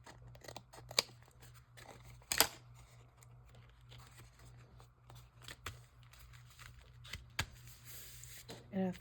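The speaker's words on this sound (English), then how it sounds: "I think we're going to trim off this edge" Scissors trim the edge of a paper piece with a few sharp snips and crisp papery rustles at irregular intervals. The cuts are close but quiet, with faint handling noise between them.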